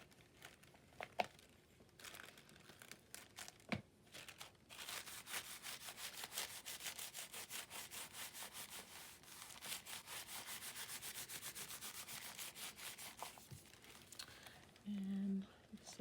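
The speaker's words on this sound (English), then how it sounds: "And then I'll do a rough tear along the edges." Paper is torn roughly by hand along its edges for a collage, making quiet, fast ripping and crinkling bursts. It grows steadier through the middle and ends with a few brief handling rustles.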